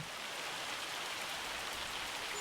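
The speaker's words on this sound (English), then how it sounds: "here comes the rain." Steady, even rain in the farming video game Farming Simulator 25, a constant broadband hiss with no talk or other sounds over it.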